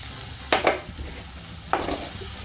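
Onions and spices being sautéed in a pan for Kerala-style kadalai curry, two brief bursts of scraping stirring over a low, steady background hum, fairly close and moderately loud.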